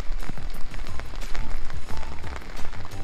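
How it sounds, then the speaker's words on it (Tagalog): Heavy rain pours steadily onto a surface outdoors in an American neighborhood, a dense, continuous hiss with constant close splatter and no voices. "lakas ng ulan, lumakas na yung ulan"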